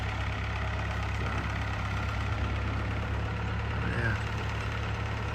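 Tractor engine idling steadily with a new bush hog mounted behind it, a continuous low rumble close by with a brief spoken remark over it.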